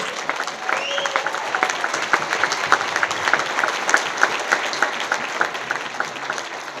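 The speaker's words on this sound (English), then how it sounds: "So if we can applaud for all of you, I would appreciate it." A crowd applauds at a natural areas anniversary celebration, with dense, steady clapping from many hands that lasts the whole stretch, loud and close, with a faint whistle-like cheer near the start.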